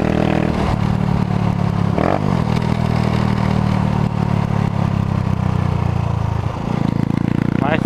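A 1999 Honda CG motorcycle with a GP Competition exhaust and a weak clutch idles and revs nearby in a loud, continuous drone. The engine stumbles now and then, and a voice talks over it.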